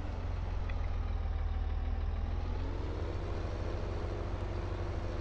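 Steady low diesel drone of a tractor engine reversing with a plow attached in the video game Farming Simulator 17, a constant loud rumble with no pauses or talk.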